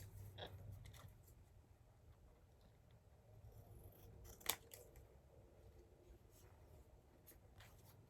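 Scissors snip through paper for a vintage craft tag, faint close crisp cuts and rustling under a quiet room hum, with one sharper click midway.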